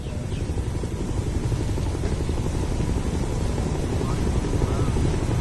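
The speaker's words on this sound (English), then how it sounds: "This time, not a landing, but a low flyover" Space Shuttle Endeavour, mounted on its carrier aircraft, makes a low flyover above runway 33 at Kennedy Space Center, producing a loud, steady, broad jet roar that swells slightly toward the end.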